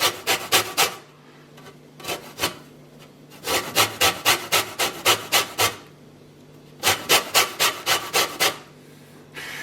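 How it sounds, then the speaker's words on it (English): Lemon rind rubbed over a small fine grater, giving bursts of quick rhythmic rasping strokes, several in a row with short pauses between, close and clear with no talk. "I'm going to take this small grater here."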